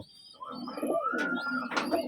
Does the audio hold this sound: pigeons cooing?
yes